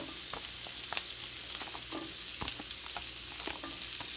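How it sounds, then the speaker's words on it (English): Food sautéing in olive oil in a pan, a close steady sizzle broken by scattered scraping and stirring clicks, with no voices. "So I'm sauteing it now."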